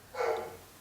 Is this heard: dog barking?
yes